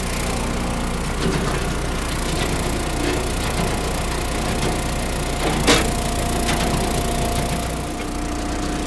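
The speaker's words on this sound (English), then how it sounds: "So stick around today and watch the splitter in action." An Eastonmade 12-22 firewood splitter working through cherry wood gives a steady, close engine drone throughout, with one sharp splitting crack around the middle and faint wood creaks under the hum.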